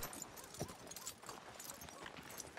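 Horse hooves clip-clopping in the Red Dead Redemption 2 video game, faint and low in level, with soft irregular steps over a murky background.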